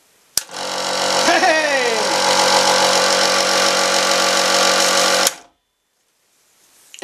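An old scroll saw is switched on and runs with a steady, loud mechanical buzz and hum for about five seconds, then cuts off abruptly. A voice is briefly heard near the start.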